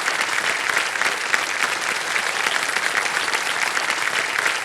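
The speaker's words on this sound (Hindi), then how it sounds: "आपके लिए ताली बज गई है" Steady, dense studio audience applause on a Hindi television quiz show, loud and continuous from start to finish with no voices on top.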